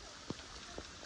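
Rain falls outdoors as a soft, steady hiss with a couple of faint distinct drop taps, quiet and with no voices.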